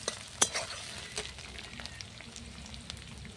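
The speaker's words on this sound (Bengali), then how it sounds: "এবার কেটে রাখা পেঁয়াজ কুচি দেবো।" Chopped onions frying in a pan over a clay stove, a soft, fairly faint sizzle with a sharp clink near the start and scattered stirring scrapes.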